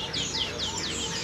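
White-eye birds in a bird shop chirp in quick, repeated high tweets, a busy overlapping chorus with steady background hum and no pauses.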